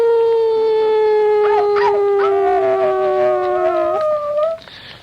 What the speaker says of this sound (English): when she wakes up, she will howl and yowl